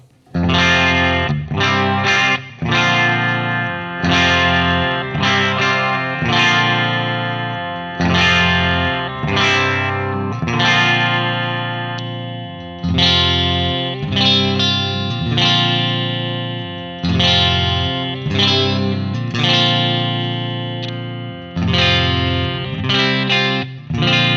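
Loud, distorted electric guitar with new strings and a chorus effect, playing sustained chords and riffs in phrases separated by brief pauses, no voices.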